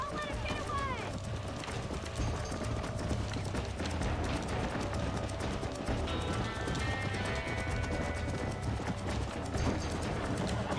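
Rhythmic hoofbeats of a galloping horse in Red Dead Redemption pound steadily beneath busy game music and effects, with a brief whinny near the start.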